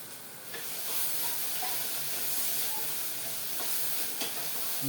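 Ginger and garlic sauté in a hot pan for ghee rice, giving a steady, close sizzling hiss with faint stirring scrapes throughout and no voices.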